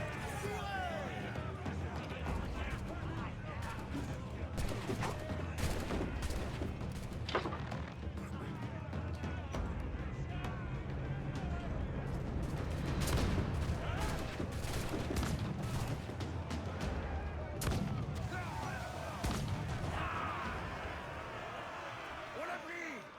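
Gunfire in a video game: dense bursts of shots and booms, some sharp and loud, others distant, run continuously under frequent excited talking throughout.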